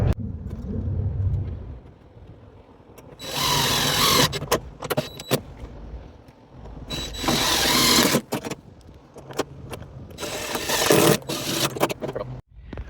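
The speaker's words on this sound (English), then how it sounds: "I'm just going to run a couple self-drillers." Power drill driving self-drilling screws into a Hummer H2 during a transmission cooler install, three loud whirring bursts of a few seconds each, with quieter pauses between them.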